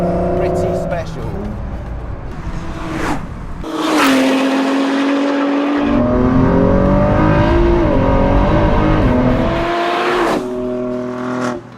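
A Ford GT with a 3.5-litre twin-turbo V6 accelerates hard on the Arctic Circle Raceway in Norway, its engine note climbing through the revs with distinct gear shifts, a loud, close, rising drone from start to finish.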